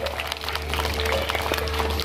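Audience applauding for Zeus, a Harris hawk, at a zoo bird show in Abu Dhabi, a steady wash of clapping from a crowd lasting about two seconds at even loudness.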